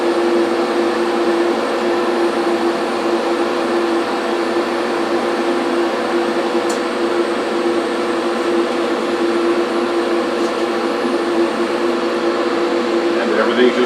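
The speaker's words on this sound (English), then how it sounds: "The compressor just kicked on." An air compressor hums steadily near a model-building bench, a continuous mechanical drone with a low tonal whine that holds level for the whole stretch and never lets up.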